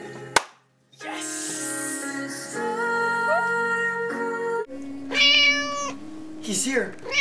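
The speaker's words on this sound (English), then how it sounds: "It's a free cat!" A cat meows a few times, clear and close, in a bright domestic scene, with a person talking excitedly over and between the calls.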